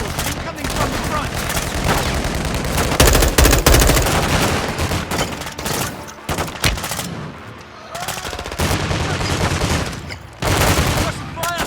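Sustained gunfire in Call of Duty Modern Warfare 2: dense bursts of automatic weapons and rapid shots overlapping in a loud, continuous battle, with brief lulls and shouted voices mixed in.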